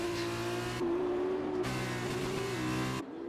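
Race car engines in an F2 racing video game on Xbox scream at high, steady revs and shift pitch between gears, the tone dropping abruptly twice as cars brake and jostle wheel to wheel, loud and continuous with no talk.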